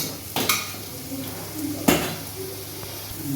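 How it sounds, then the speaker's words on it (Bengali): Chopped garlic stirred and lightly fried in a pan: two sharp utensil scrapes against the metal over a soft, steady sizzle, close by and without talk. "এবার এটাকে নেড়ে ছেড়ে একটু হালকা ফ্রাই করে নিয়ে"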